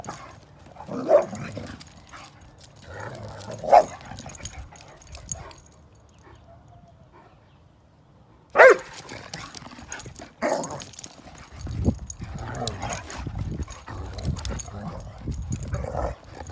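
Two dogs romp and play together, with scattered barks, yips and whimpers at moderate distance, a quiet pause midway, then livelier scuffling noise and a sharp bark; faint human voice in the background.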